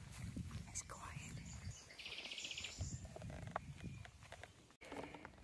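Birdsong along a walking trail on the Chemin du Puy (Via Podiensis) in April: scattered high chirps and short trills, moderately distant, with a steady background of outdoor noise.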